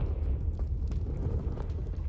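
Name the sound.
Confringo spell explosion in Hogwarts video game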